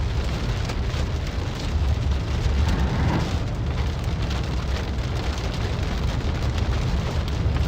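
Heavy rain pounds steadily and loudly on a storm-chasing vehicle during a Nebraska wedge tornado chase, a dense unbroken roar with no voices.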